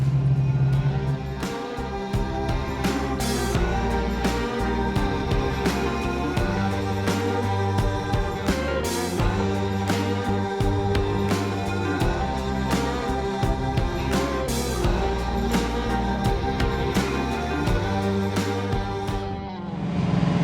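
A 1967 Ford Mustang K-code V8 on the road, a steady loud engine drone with a deep rumbling tone, held at even revs throughout from inside the car.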